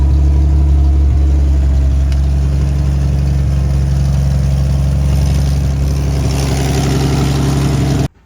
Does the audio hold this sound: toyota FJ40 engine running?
yes